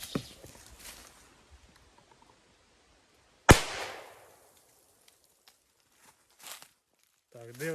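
A Pyrosoft Piro F1 pyrotechnic grenade goes off on cardboard with one sharp, loud bang that fades quickly. Faint rustling comes before it, and a few small knocks and a brief voice follow.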